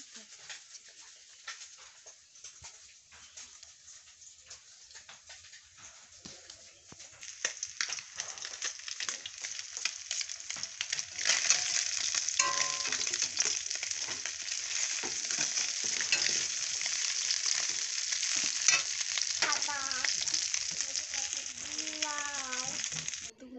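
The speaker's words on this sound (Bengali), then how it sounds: "ওই দেখো মাছ ভাজি গ্যাসের মধ্যে করলাম মাছ" Fish fries in a pan on a gas stove, a steady crackling sizzle that grows louder and fuller about halfway through and holds close by, with occasional faint background sounds.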